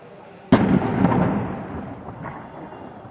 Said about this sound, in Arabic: تفجير دبابتين لعصابات الأسد على مدخل المدينة الشرقي مدينة التل